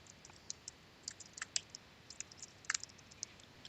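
Scattered light key clicks from a computer keyboard, faint and close, arriving in irregular short bursts over quiet background hiss, with no talking.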